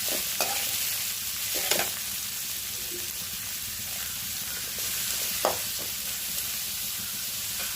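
Chopped onions frying in a pan for red poha upma, a quiet steady sizzle with a few soft spatula stirs and scrapes scattered through it.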